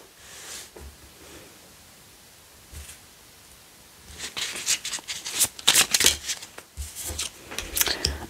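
Tarot cards being shuffled for a card reading, soft riffling and rustling bursts growing busier and louder in the second half, close by with no talk.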